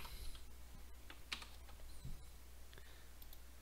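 A computer keyboard is tapped at a desk as a command is entered in a code editor, scattered soft clicks spread unevenly over a low steady room hum.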